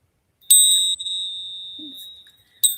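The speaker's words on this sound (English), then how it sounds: "I have a bell that I use for sound" A small bell used for sound cleansing rings out clearly, a bright sustained tone struck once and ringing for about two seconds before a second strike near the end, close and alone.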